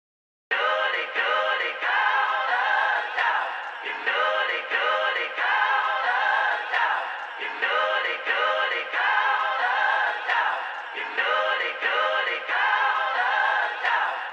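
A sampled beat part loops in Pro Tools, a dense, bright, mid-heavy sample repeating in steady bars, loud and alone after a brief silent start.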